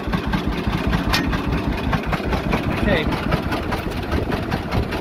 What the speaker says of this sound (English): This is not an easy tractor to steer.